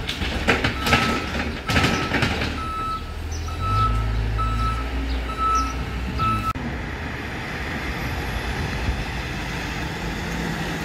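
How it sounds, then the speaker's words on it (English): An STM truck reverses on a Montreal street, its backup alarm giving a steady series of evenly spaced beeps. A low diesel rumble and passing traffic sit underneath, then the beeping stops and street noise carries on. "Ah, I knew that was an STM truck."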